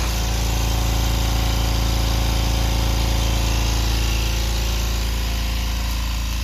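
A Husky 4.5 gallon silent portable air compressor runs steadily and builds pressure, giving a loud, constant motor hum with an even mechanical drone, heard alone and close without any talking.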